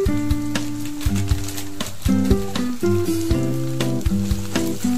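A spice paste of chilli powder, ginger-garlic paste and chaat masala sizzles steadily in a pan, with utensil taps and stirring clatter throughout. Close and continuous; a low tonal hum runs underneath.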